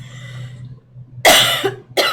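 Two sharp, close coughs break a low hum, the first longer and harsher, the second a short burst.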